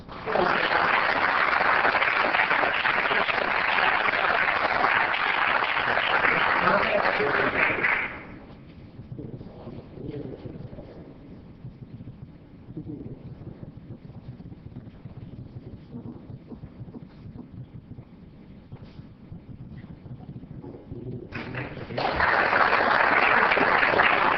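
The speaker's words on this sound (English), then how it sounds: "Let's help Mark celebrate with a round of applause." A city council meeting audience applauds an honoree from the Public Works Department, loud sustained clapping at the start, then a quieter stretch with scattered sounds, and the applause swelling again at the end.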